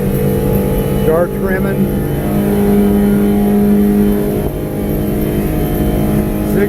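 A Smokercraft 172 Osprey boat's outboard engine runs hard and steady at full throttle out on the water, a loud continuous drone that holds throughout while someone talks over it.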